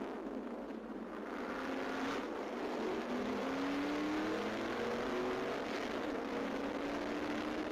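A car accelerating hard on a road, its engine note rising steadily and strongly, moderately distant, with no talk over it.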